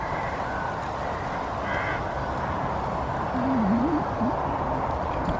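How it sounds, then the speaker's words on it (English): Crows caw repeatedly from their nests in the distance over a steady outdoor background hiss during a countryside walk near Scorton, the calls faint but distinct against the ambient noise. "And then the crows in their nests up there."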